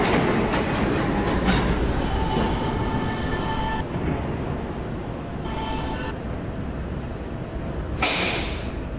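Subway train in the Roblox game PTA Subway running on the Fifth Av lines, a loud steady rumble with clickety-clack, high tonal whine and a sharp air-brake hiss near the end.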